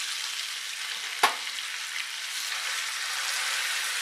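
Masala-coated fish sizzles steadily in hot oil, with one sharp clatter as a piece is flipped onto its second side, then continuous close frying hiss.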